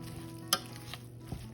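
Seasoned ground turkey with seasoning salt, paprika and cumin cooking in a pan, giving a low steady sizzle with a sharp scrape of stirring and a couple of faint clinks.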